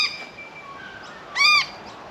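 An agitated bird calls out in a backyard garden, a single loud, harsh cry rising clearly above quiet outdoor ambience, with a few fainter thin whistling calls before it.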